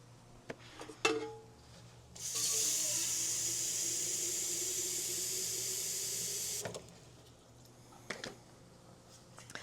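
Water runs from a tap for a little over four seconds, a steady close hiss while seedlings are being watered, framed by faint handling clicks and knocks before and after.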